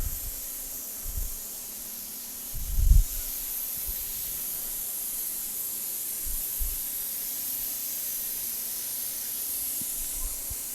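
Steady hissing of steam escaping a pressure cooker's safety valve while grain jars are being processed, a continuous high airy rush running for the whole stretch, with a few low thumps and bumps underneath and no voices.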